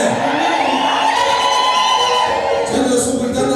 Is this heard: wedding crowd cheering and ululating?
yes